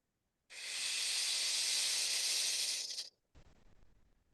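A long, steady hiss of forced breath like a traditional kettle during a seated Shaolin qigong exercise: loud and even for about two and a half seconds, cut off sharply, then followed by a softer, rougher exhale.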